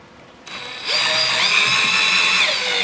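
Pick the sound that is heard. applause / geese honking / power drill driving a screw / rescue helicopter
power drill driving a screw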